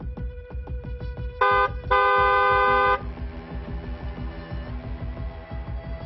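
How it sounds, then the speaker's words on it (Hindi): A car horn honks in two steady blasts, the second longer, over a continuous rumble of road traffic with a rhythmic low pulsing underneath. "और दूसरों को सावधान करने के लिए हॉर्न बजाते रहें।"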